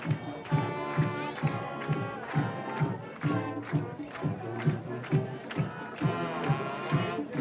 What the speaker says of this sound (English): And this crowd loving it.